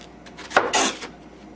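A knife slices through a fresh artichoke in a home kitchen as stuffed artichoke hearts are prepared, giving one close, short crisp cutting scrape with a brief rustle after it and no talk.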